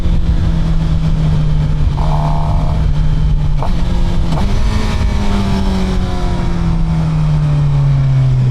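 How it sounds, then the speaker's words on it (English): A Suzuki GSX-R 750 motorcycle engine running loud and close, a steady droning growl that rises in a couple of rev swells and then drops slowly in pitch, heavily buffeted by wind noise. "I just love the way this bike sounds."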